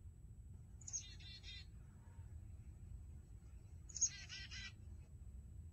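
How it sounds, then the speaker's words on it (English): A smart speaker plays back a recorded chickadee call: two short bursts of high, rapid chirping notes about three seconds apart, over a low steady background hum, with no talking. "A chickadee says."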